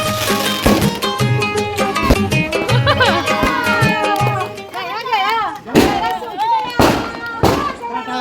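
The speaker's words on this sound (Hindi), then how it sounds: "उसके बाद अब थोड़ा सा आतिशबाजी सब लोग कर रहे हैं।" Fireworks and firecrackers go off during a Diwali celebration at home, loud crackling bursts and sharp bangs with whistling rockets, over a busy background of voices and festive music.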